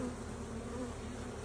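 Honey bees buzz around a brood-box frame in a hive, giving a faint but steady, dense hum that goes on without a break and with no talking.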